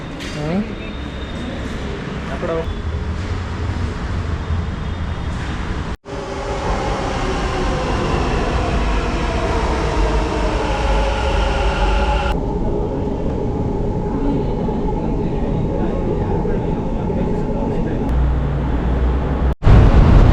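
Loud, steady rumble of a metro train in motion with whooshing rail noise, a voice talking over it, then abrupt shifts as the ride continues.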